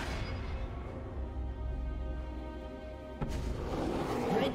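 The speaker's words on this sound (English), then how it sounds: "Red team's turret has been destroyed." A League of Legends turret is destroyed: one sharp crashing burst cuts through steady game music and effects, followed by a busier, rustling wash of sound.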